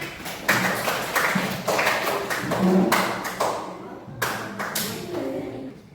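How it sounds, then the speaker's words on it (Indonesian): Students in a classroom clap hands after a cooking exercise on decorating fried rice, bursts of sharp claps spread across the room with brief pauses, fairly close, ending in a final shorter round. "Beri tepuk tangan."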